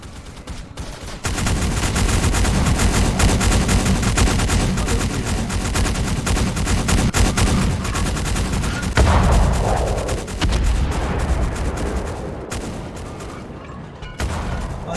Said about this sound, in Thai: ปืนใหญ่ที่ไหนไม่รู้